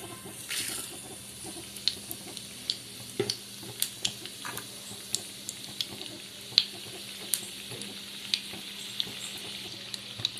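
Tempering seeds crackle in a teaspoon of hot oil, a soft sizzle dotted with irregular sharp pops and ticks, close and moderately quiet, with no voices.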